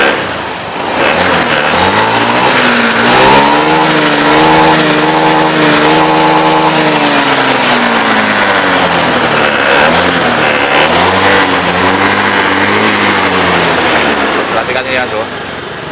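A car engine revs under throttle after a throttle body and TPS repair, rising and falling in pitch through steady, loud, sustained acceleration that fills the whole stretch, with someone speaking over it.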